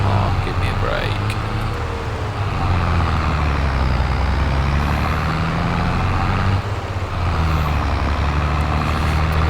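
A Fiat Agri tractor in Farming Simulator 22, its gearbox synchromesh damaged between first and second gear, drones with a steady, loud low engine rumble that dips briefly partway through.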